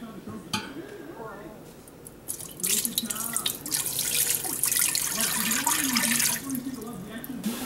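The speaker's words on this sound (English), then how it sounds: "6 cups of water. Dump it in." Six cups of water are poured into a container while mixing homemade fabric softener, giving a steady splashing gush that grows louder and fuller midway. Faint kitchen clatter sits underneath.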